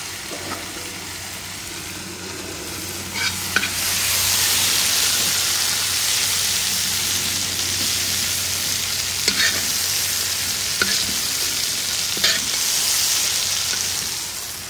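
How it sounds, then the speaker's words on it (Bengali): Prawns fry in oil with a loud, continuous hiss and sizzle, broken by a few scraping stirs of the pan. "চিংড়ি মাছগুলো একদম অল্প করে ভেজে তুলে রাখলাম"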